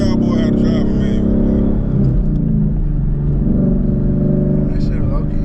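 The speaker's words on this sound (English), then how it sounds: "I'm gonna show y'all boy how to drive a manual." A Ford Mustang with a manual gearbox driving, a loud steady engine drone and low rumble filling the cabin, with someone talking over it for much of the time.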